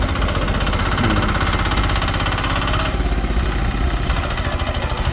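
Engine of a used Kubota KRT 140 Plus walk-behind farm tractor running steadily nearby, a loud continuous rhythmic chugging and clatter with metallic vibration throughout, no talking.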